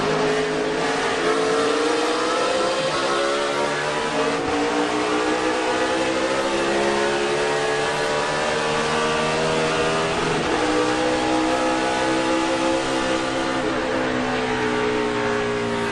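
2007 NASCAR Cup race car heard onboard on a restart at the Citizens Bank 400, its V8 engine roaring loud and steady close in, with the pitch climbing and dipping through the gears.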